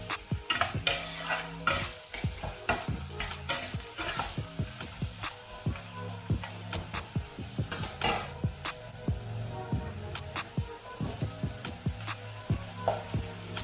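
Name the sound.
onions being stir-fried in a pan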